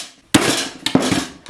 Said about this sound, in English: Anyways, it's hammer time.